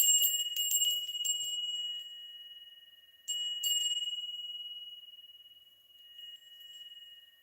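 Bright, ringing bell tones struck a few times, each chime sustaining and slowly fading, clear and fairly close with no talking.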